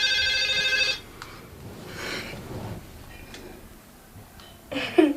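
A mobile phone ringtone chimes loudly for about a second, then fades out, leaving quiet room noise with faint breaths before a short burst returns at the end.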